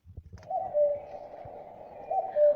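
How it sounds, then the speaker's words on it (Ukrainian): A cuckoo calling: two soft, hollow, low-pitched coos, one after a short pause, close and fairly faint, with a few faint taps just before. "то це ж відомо нам всім зозулька"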